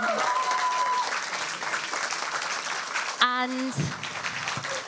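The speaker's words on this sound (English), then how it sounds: "Let's give him a round of applause." An audience at a live short-story reading event applauds the competition's overall winner, steady sustained clapping with a voice over the start, cut off after about three seconds when a speaker begins.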